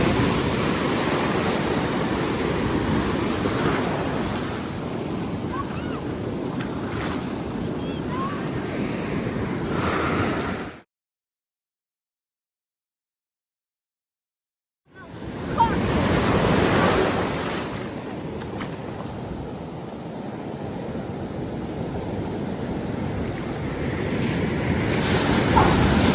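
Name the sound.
ocean waves at the beach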